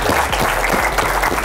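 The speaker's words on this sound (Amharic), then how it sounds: "ጭብጨባ" Audience applause for a young boxer at a live studio show, loud and close, a dense burst of many hands clapping steadily with no pauses.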